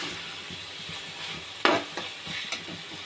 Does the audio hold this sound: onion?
yes